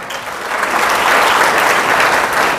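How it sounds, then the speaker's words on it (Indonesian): At a church revival service, a congregation breaks into loud, sustained applause. Dense clapping fills the space evenly for a few seconds. "Beri tepuk tangan."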